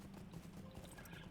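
Hooves of a ridden horse clip-clop in a fantasy online role-playing game, a quick even rhythm of soft thuds, faint and steady throughout.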